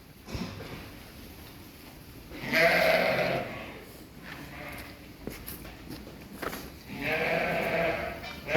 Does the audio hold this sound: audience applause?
no